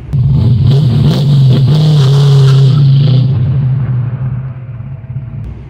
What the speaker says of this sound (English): give it some RPMs and just, you know, let it rip